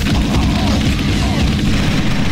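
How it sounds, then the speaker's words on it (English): Barrels exploding in the XIII video game, a loud, close, sustained roar of blast and crackling debris that fills the whole short moment without a break. "those barrels explode and they kill Carrington"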